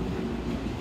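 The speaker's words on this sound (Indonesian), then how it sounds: "Namanya KRL nih teman-teman." A KRL commuter train rumbles steadily at a busy Jakarta station, a continuous low rolling drone with no break across the short moment.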